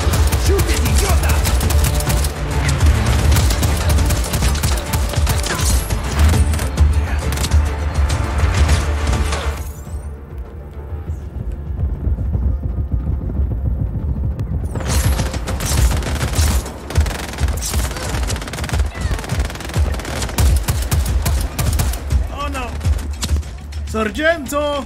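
Heavy automatic gunfire rattles on in the Just Cause 4 video game, loud and continuous with a short lull in the middle, while a voice talks over it.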